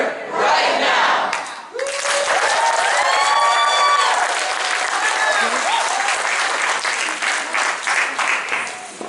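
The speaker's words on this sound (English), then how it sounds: "Let's give her another round of applause." Audience applause and cheering fill a rally crowd at a Families Belong Together event in San Luis, Arizona, steady and loud from start to finish, with scattered shouts and voices rising over the clapping.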